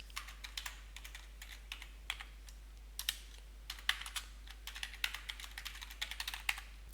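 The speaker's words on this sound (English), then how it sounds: "Clicking on the effect will activate the title generation user interface, where we can just type in text." Text is typed on a computer keyboard, a quiet scatter of irregular key clicks coming in small bursts and singles over several seconds, close and alone without speech.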